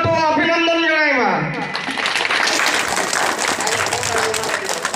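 An audience applauds at a school annual function in Kateribhatta, loud dense clapping that swells in right after a voice over a loudspeaker and carries on steadily to the end.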